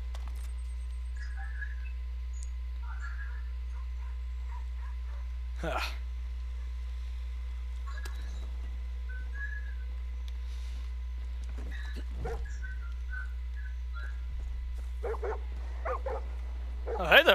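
A dog in the video game Far Cry 5 barks and yips in a few short bursts, moderately loud over a steady low hum, with someone speaking in between.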